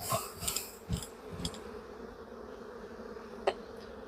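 Honey bees hum and buzz softly as a hive frame is shaken off during a hive inspection, a faint steady drone with a few small knocks and clicks, no speech.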